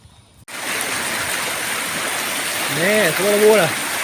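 Floodwater runs at a park in Cairns after ex-Cyclone Jasper, a steady loud rushing of water. It begins abruptly and continues throughout, while a voice murmurs briefly near the end.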